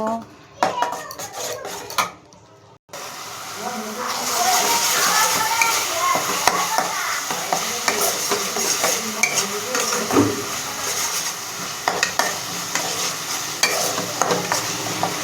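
Cumin, coriander and turmeric powders are stirred and fried in a pan, giving steady scraping, clinking and soft sizzling after a brief quiet start, with talk running underneath.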